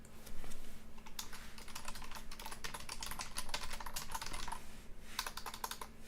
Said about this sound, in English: I'm pressing the wrong buttons on my keyboard